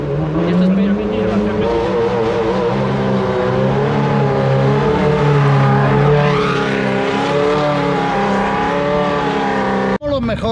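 At the Subida al Fito hill climb, race car engines roar loudly and continuously as the cars speed past, their pitch rising and falling through gear changes, while spectators talk over the noise.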